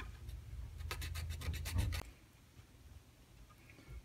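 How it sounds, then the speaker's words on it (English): Quick rhythmic rasping strokes of a file or sandpaper on a wooden model fishing ship part, about ten close strokes in two seconds, then near silence. "I'll take a file or some sandpaper"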